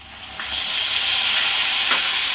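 Ground onion paste hitting hot spiced oil, a steady loud sizzle and frying hiss that swells after a brief stir, with no talking.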